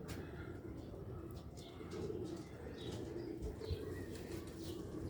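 Sialkoti pigeons with black faces coo softly and repeatedly, with faint chirps and a brief wing flutter, all at low level against a constant background hum.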